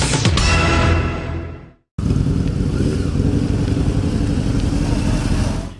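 Motorcycles ridden by bikers in Santa costumes gather on Deák tér in Hévíz: loud nearby revving cuts off sharply, then a dense, steady rumble of several engines idling and moving follows.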